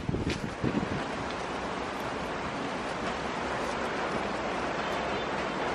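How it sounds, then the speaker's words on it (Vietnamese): Strong northeast monsoon wind sweeps through a garden, a steady broad roar buffeting the microphone with a brief heavier gust at the start and no voices. "Gió mùa đông bắc."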